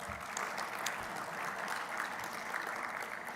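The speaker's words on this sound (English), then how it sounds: "So let's give them a round of applause and welcome." An audience at a conference session gives a round of applause to the live captioners, a fairly distant, even wash of clapping that holds steady throughout.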